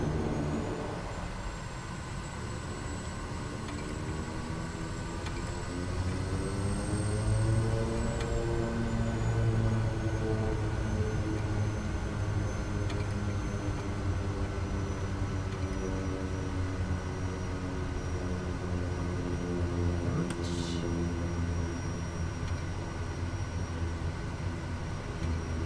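A Kodiak 100 single-engine turboprop taxiing in Microsoft Flight Simulator 2020, its engine a steady close drone with a whining tone that shifts in pitch partway through, continuing evenly for the whole stretch with no talk.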